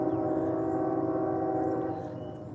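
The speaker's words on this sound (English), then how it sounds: "I don't know if you can hear the train" A train rumbles past near a lake, a steady low drone holding level for about two seconds before easing off, heard from a moderate distance with no voices.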